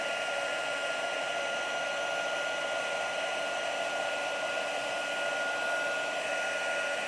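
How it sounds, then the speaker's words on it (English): A craft embossing heat tool blows steadily as it heats embossing powder until shiny, a constant whooshing hum that stays loud and unbroken throughout with no talking. "And we're just going to heat that up until it gets shiny."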